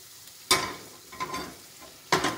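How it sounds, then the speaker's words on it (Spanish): Butter heating in a pan for a beef lasagna, a soft sizzle with a few sharp clanks of a utensil against the pan. "Entonces calentamos la mantequilla"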